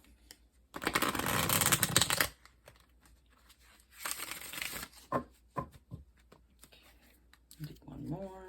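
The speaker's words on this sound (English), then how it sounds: "I'm going to be pulling a card, one for each row" Tarot cards are shuffled in two loud bursts of rapid riffling, followed by softer taps, slides and flicks as individual cards are pulled and laid down, with a voice speaking briefly at the end.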